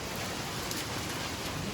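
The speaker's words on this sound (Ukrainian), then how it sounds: "На вулиці просто дощ валить" Heavy rain pouring down outside a mountain hut in the Carpathians during a stormy hike, a dense, steady roar of drops with no pauses.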